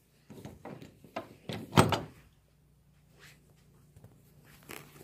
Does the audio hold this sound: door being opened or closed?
yes